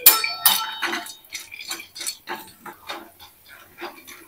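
Sandge, small lentil dumplings, are lightly roasted in a pan, with a string of close clinks and scrapes from the utensil knocking against the metal in a loose, steady rhythm.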